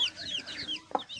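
Arab breed hens cluck softly nearby, a quick run of short chirpy clucks and calls at modest volume with a slightly sharper note near the end.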